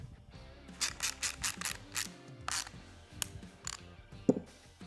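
Small screws with lock washers are tightened into a lighted license plate frame, a run of sharp metallic clicks and scraping turns in quick irregular bursts, close and fairly quiet, with no talking.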